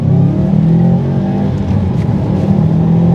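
A 2015 Subaru WRX STi engine pulls hard and steady accelerating downhill, a continuous loud droning rumble heard from inside the car.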